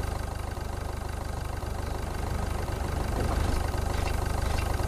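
Forklift engine idling in the Beer Factory game, a steady low rhythmic chug that holds constant and close for the whole stretch, with no voices over it.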